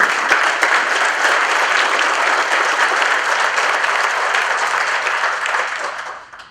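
A room full of people at the Cauliflower Alley Club award ceremony breaks into sustained, dense applause that holds steady and loud for several seconds before tapering off at the end.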